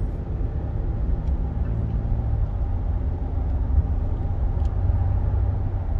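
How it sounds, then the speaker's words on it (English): A 2023 Nissan Frontier Crew Cab cruises along a road, a steady low rumble of engine and tyre noise from inside the cab, smooth and even with no talk. "the truck just smoothly goes along"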